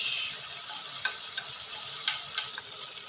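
Beef trotters being fried in a pan for baday paye, a steady close sizzle with a few sharp clinks and scrapes of stirring.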